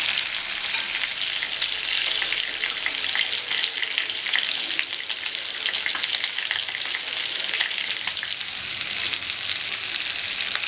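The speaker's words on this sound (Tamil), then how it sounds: "அது நல்லா ஃப்ரை ஆகட்டும்." Spicy Ayala fish (mackerel) fries in a pan in hotel-style fashion, a dense, steady sizzle of hot oil with crackling spatters running throughout, close and continuous with no talking.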